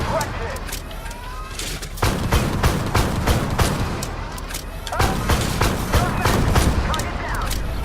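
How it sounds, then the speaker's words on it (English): Rapid automatic cannon fire from an armored vehicle in the tank combat game Armored Warfare, with bursts of repeated booming shots in two volleys over a rumbling engine, loud and close. "Oh, it's like a machine gun."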